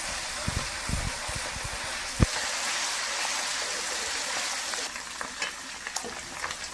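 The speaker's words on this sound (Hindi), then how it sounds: "और इसको अच्छी तरह से प्याज के साथ मिक्स कर लेते हैं।" Onions stirred and fried in a pan with spice paste for a rice dish: soft, continuous sizzle with occasional scraping stirs and a sharp knock near the start, fairly quiet and without talk.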